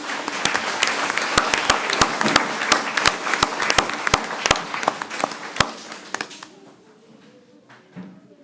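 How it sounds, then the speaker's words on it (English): Applause from the audience at a school board meeting: dense, sustained clapping with sharp individual claps, loud and close, thinning out and fading after about six seconds. "One more round of applause."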